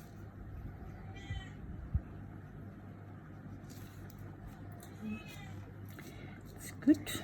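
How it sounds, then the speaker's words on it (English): A house cat meows a few times indoors, short faint calls over a steady low room hum with some background speech. "That's my cat."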